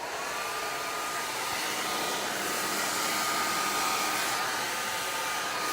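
A hair dryer blowing hair at a salon, a continuous loud whooshing drone held steady and close throughout, with no voices.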